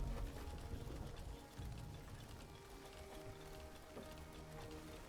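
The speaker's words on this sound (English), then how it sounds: "The rain has caught us up." Steady rain falls in an indie video game, a continuous soft hiss of drops spread evenly throughout, with faint bird calls mixed into the quiet background.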